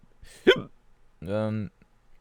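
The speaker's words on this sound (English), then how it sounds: "My hiccups are probably really loud." Two distinct hiccups from a person, the first sharp and abrupt, the second a longer voiced gulp about a second later, close to the microphone in an otherwise quiet room.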